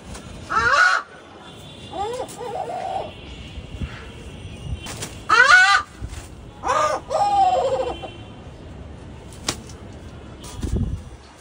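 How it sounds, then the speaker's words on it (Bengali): Grey-headed fish eagle calling in loud, repeated bursts of ringing, yelping notes with gaps between them, fairly close, with a few sharp knocks and background rustle. "এবং আমি এই প্রথমবারের মতো শুনতে পারি গ্রে হেডেড ফিশ ঈগলের ডাক।"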